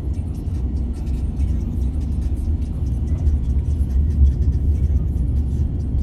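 Nissan Ariya electric car in pre-series form on Bridgestone tyres, driving around the Montlhéry circuit: a steady, loud low road rumble and tyre whir with slight surges, continuous throughout without talk.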